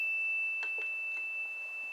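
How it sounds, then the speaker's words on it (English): A solar plexus bell is struck several times, its bright ringing tone sustained over a steady high hum, with no voices. "I'm going to start with my solar plexus bell"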